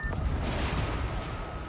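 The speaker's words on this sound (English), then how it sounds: "That explosion looked bad." A deep explosive boom rumbles in the Spider-Man Miles Morales game, a single heavy blast with a sharp burst near the middle and low rolling decay, no talk.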